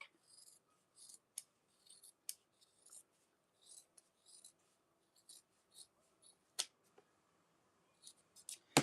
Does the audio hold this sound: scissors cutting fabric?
yes